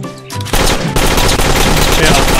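Loud, continuous rapid-fire gunfire in the farm-defense video game Dead Acres, shooting at an object, a dense sustained burst after a short quieter lead-in.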